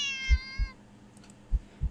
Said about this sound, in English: Cat meows at you again, but sounds much deeper than earlier.